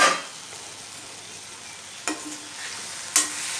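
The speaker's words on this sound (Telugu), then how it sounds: "ఇలా బాగా మెత్తగా అయ్యేంత వరకు వేయించుకుని" Tomatoes frying in a pan until soft, a soft steady sizzle broken by two brief scraping stirs of a spatula, close and alone without talk.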